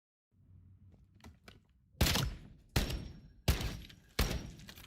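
Four bursts of SMG fire from Call of Duty BO7, each a sharp loud crack with a ringing tail, spaced under a second apart after a stretch of quieter low background noise.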